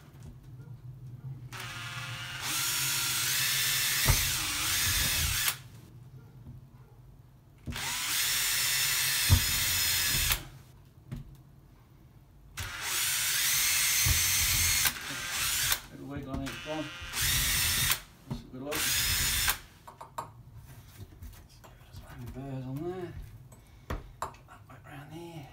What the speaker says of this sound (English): Let's drill those new holes.